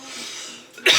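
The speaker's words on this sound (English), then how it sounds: "I'm kind of clearing my throat" A single throat clearing near the end of a short quiet stretch, a close, harsh burst from someone who has just woken up and is drinking coffee.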